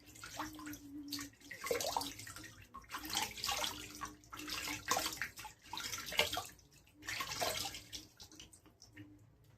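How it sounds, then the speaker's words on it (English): Water sloshes and splashes in a filled sink as hands scoop it onto a face, coming in repeated bursts of close splashing and dripping separated by short quieter pauses. "now I'm going to get my face wet"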